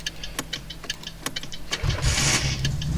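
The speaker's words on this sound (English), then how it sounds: "I've just stalled it again." Car engine in the driving game My Summer Car, a low engine hum with sharp mechanical clicks, then a rougher surge near the end as the engine stalls; no talking.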